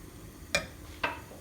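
A spoon scraping through a thickening meat broth sauce in a pan, two brief distinct strokes about half a second apart, close and quiet against a soft background.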